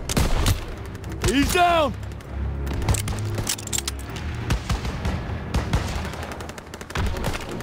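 Gunfire from the Call of Duty WWII game: rapid, loud bursts of rifle and machine-gun fire over a noisy battle with booms, while soldiers shout in the middle.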